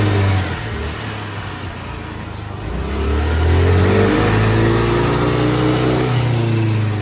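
A Honda Activa 110 scooter, smoking from running without engine oil, idles roughly and then revs up, its engine droning loud and close, rising in pitch and holding a steady higher whine.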